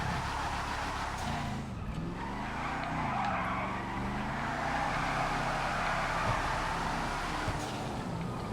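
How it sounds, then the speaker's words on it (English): Drift car in GTA FiveM skidding continuously with loud tire squeal over a steady revving engine, the pitch sliding up and down through the drift, sustained for the whole stretch. "Another drift car."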